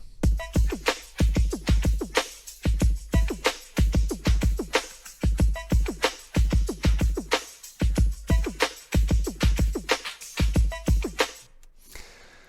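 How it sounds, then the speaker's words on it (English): A busy electronic drum groove with punchy kicks, crisp snares and rapid hi-hats looping steadily, then cutting off near the end. "And so all those drums together sound like this."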